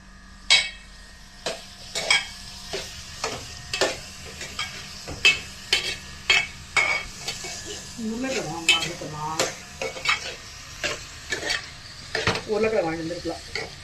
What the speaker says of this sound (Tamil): வெங்காயத்தை அப்படியே கிண்டிக்கலாம்.